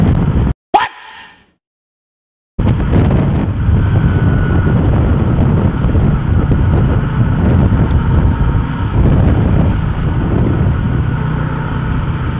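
Strong wind rushing across the microphone during a motorcycle ride, a steady loud roar filling most of the clip after a brief dropout near the start, with the engine hum blended underneath.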